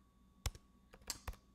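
A handful of quick keystrokes on a computer keyboard, sharp close clicks in an irregular burst in an otherwise quiet room.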